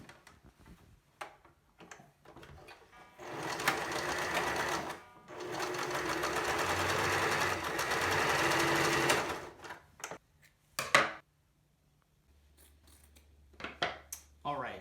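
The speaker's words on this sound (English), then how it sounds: "We're going to finish the edge of this fabric with the sewing machine." A sewing machine finishes a fabric edge in two sustained bursts of rapid stitching, separated by a short pause, with light clicks and handling noises around them.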